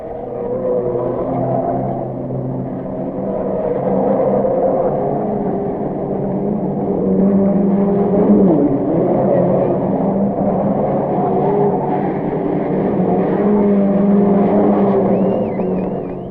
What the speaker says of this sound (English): the high-pitched roar of high-revving engines cuts the autumn stillness